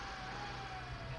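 An emergency siren from the video game Valkyria Chronicles wails as a steady, faint alarm tone over a low hum, continuous through the short stretch with no speech.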